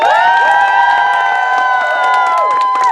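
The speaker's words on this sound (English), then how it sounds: "And you cheer now!" A theater audience cheers loudly after a stage performance, sustained whooping and shouting voices from a close, dense crowd with scattered clapping underneath.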